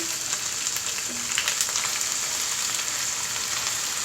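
Onion paste for mustard hilsa fries in a pan, a loud, steady close sizzle with faint stirring scrapes and no voices.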